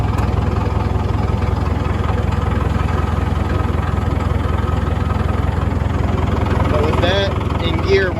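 A Caterpillar 922 wheel loader's diesel engine idles close by with a loud, steady low rumble and vibration throughout, while someone talks over it near the end.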